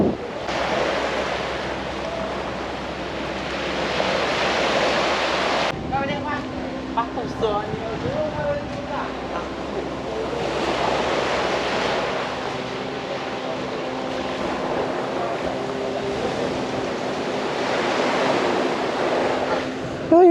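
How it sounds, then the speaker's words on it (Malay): Ocean waves wash onto the beach directly in front of a seaside chalet in Malaysia, a loud steady surf roar with swells and wind noise, and people talk over it partway through. "So boleh dengar ombak."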